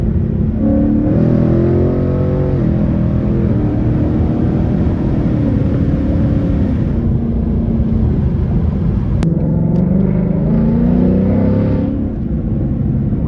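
Ford Mustang GT V8 in Sports Plus mode, heard loud and close from inside the car as it revs and rises through the gears, then downshifts with a sharp blip and rumbles on, with no talking.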